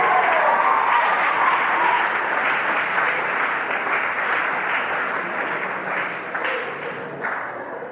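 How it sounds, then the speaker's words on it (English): An audience at an evolution-themed revival meeting bursts into loud, sustained applause, a dense wash of clapping that carries steadily for several seconds and only slightly thins toward the end. "Let's just give the science of archaeology a big hand right now"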